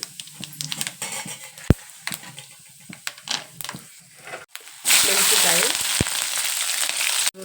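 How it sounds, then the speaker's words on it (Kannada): Mustard seeds, urad dal, cumin and peanuts dropped into hot oil for girmit: scattered sharp pops and crackles at first, then a loud, dense sizzle that holds steady to the end. "ಸ್ವಲ್ಪ ಸಾಸಿವೆ, ಸ್ವಲ್ಪ ಉದ್ದಿನ ಬೇಳೆ ಹಾಕ್ಕೊತೀನಿ ರೀ. ಚಟ್ಪಟ್ ಸಿಗ್ಕೋಬೇಕು."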